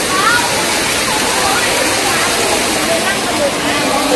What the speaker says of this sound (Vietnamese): cổng chợ mà cũng có cái thác nước nghe mát phết nhỉ